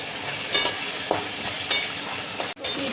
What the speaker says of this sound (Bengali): দিয়ে দেওয়া হলো আদা বাটা, লাল লাল করে দিয়ে দিতে হবে কাঁকড়াগুলোকে